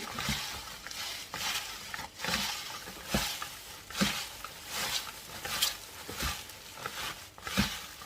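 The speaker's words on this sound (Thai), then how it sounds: "รสบาร์บีคิวหมู ใส่ไปนิดหน่อย แล้วก็คลุกเคล้าให้เข้ากัน" Crispy kale being tossed and mixed with pork barbecue seasoning, with a rhythmic series of soft rustling, crunching scrapes repeating about once a second, fairly quiet and close.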